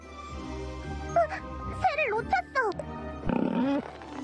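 A pig in the video game Witch Spring R gives several short, squealing, grunting oinks that rise and fall in pitch, over a soft game background.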